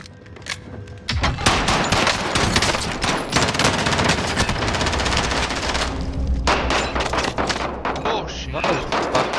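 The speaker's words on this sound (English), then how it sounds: "I hear gunfire nearby somewhere." Gunfire in the Modern Warfare battle royale video game, rapid automatic bursts and sustained volleys of shots, loud and close for most of the stretch, with a brief lull, while players talk over it.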